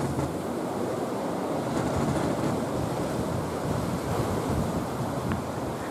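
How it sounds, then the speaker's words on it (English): Continuous rushing wash of water streaming past the wooden hull of the sailing ship Pride of Baltimore II at about 10 knots, with wind noise mixed in, steady and close. "I lay down with my head only inches away from water rushing by at"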